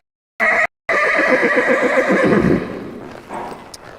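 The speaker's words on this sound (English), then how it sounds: "just because a horse calls does not mean that they're necessarily super worried" A horse calls out with a loud, close whinny that starts after a brief gap, rings on for about two seconds and then fades into quieter, lower snorts, heard alone with no talking.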